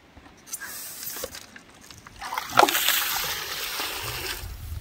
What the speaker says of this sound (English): the first suction of the hand dredge is going to go in